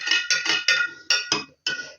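A spoon clinks against a jar while stirring salt water for cabbage brine, a rapid series of bright metallic clinks with short gaps, close and clear.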